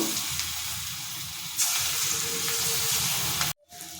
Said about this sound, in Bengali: আমি ছোটো ছোটো বড়া ভেজে নেব